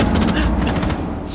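Rapid gunfire in an online multiplayer shooter game, a loud dense burst of shots at close range that eases off slightly toward the end.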